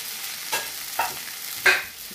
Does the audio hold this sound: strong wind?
no